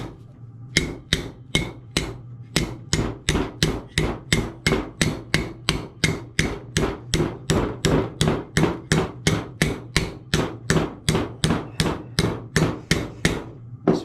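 Metal hammered on a small anvil to roll and taper its shape for an adventure motorbike project: a long, even series of loud, sharp ringing blows, about two to three per second, close and alone.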